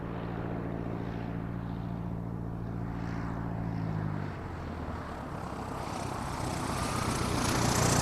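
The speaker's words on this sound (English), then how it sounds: "landing an airplane is basically a controlled crash" A propeller airplane touching down, with a steady droning engine hum that cuts off midway and gives way to rising rushing roar and rumble, loud and close.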